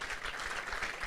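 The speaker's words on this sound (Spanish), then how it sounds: "el doctor Jesús Anser Rodríguez, a quien nuevamente le damos un fuerte aplauso" Audience applause at a national forum in Mexico, a brief burst of dense clapping from a hall crowd, steady and moderately loud with no talk over it.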